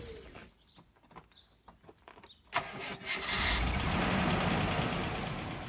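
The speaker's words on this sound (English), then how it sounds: "Let's fire up that engine" A Rover V8 engine cranks with a few uneven turns over a quiet background, then catches and fires up, settling into a loud, steady idle that runs to the end.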